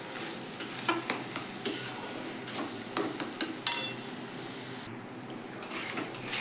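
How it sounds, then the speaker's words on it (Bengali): A spatula scrapes and knocks against a pan while a potol kofta curry with boiled potato sizzles, giving irregular close clinks and taps over a soft steady frying hiss. "ভালো করে কষিয়ে নিচ্ছি।"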